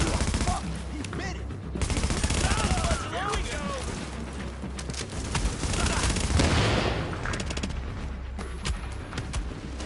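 Rapid automatic gunfire rattles in continuous bursts during a PvE shooter match played with a Striker Shredder build, loud and dense, with a voice talking over the shots.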